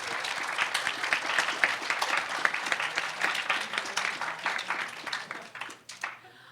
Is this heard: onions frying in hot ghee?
no